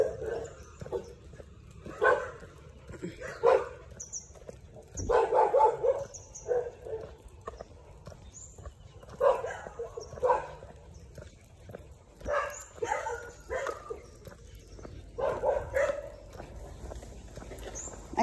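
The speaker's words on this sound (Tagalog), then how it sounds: "Ang aso." A dog barks in repeated short bursts with some yips during an outdoor walk, fairly close, with occasional quiet voices in the background.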